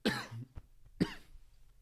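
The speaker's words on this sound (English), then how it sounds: "Hopefully this cough's gone tomorrow." Two sharp, close coughs from a person at home during a fantasy football draft, spaced about a second apart, with no talking around them.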